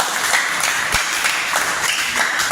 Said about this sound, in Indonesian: Ini tepuk tangan untuk kita